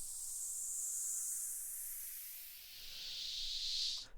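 A breathy whoosh sweeps slowly through the highs, dips, then rises again to a bright hiss and cuts off abruptly; no voices.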